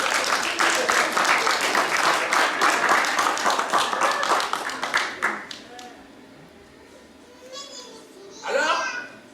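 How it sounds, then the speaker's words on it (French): An audience claps for several seconds at a storytelling show, dense applause that thins out and stops, followed by children's voices and a speaker talking. "Applaudissez pour vous."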